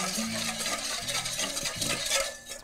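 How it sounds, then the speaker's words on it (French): A salt and pepper base is mixed, giving close, continuous scraping and stirring strokes in an uneven rhythm with no talking. "Donc, on a notre base qu'on peut déjà mélanger."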